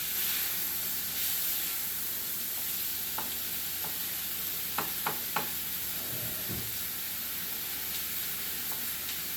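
Meat fries in a pan with a steady, close sizzle and hiss, broken by a few sharp scrapes and stirs of a spatula, with no talking.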